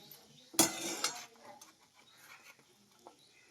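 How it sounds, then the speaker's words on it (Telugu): Dried red chillies fry in a metal pan: one sharp clatter of a spatula against the pan, then soft sizzling and light stirring scrapes that fade to quiet, close by, with no talking. "ఎండుమిరగాయలు వేగుతున్నాయండి"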